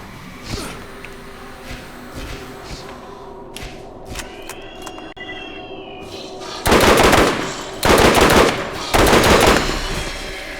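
Burst-fire gunfire in a shooter video game starts with scattered quieter clicks and thuds, then three loud, close bursts of rapid shots crack out in quick succession near the end.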